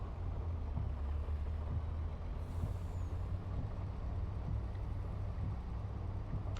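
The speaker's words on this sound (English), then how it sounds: "The truck sounds pretty good too." A truck engine in a driving video game drones with a deep, steady rumble at moderate level, unbroken and without voices, with a faint hiss of air briefly rising partway through.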